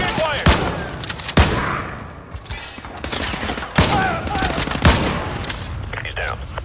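Gunfire in the shooter Modern Warfare 2 Remastered, loud repeated shots and bursts of automatic fire among battle noise, with some background voices.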